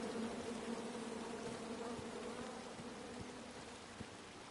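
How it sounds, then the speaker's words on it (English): Angry bees swarming from a tree in a video game, a dense steady buzzing drone that fills the scene, loud and continuous with faint ticks underneath. "Come at me, bees!"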